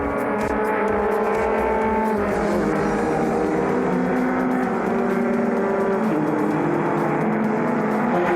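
Historic race cars, a Ford Escort Mark I and a Datsun 1200, race side by side, their engines a loud sustained roar with shifting pitch as they rev and change gear on track.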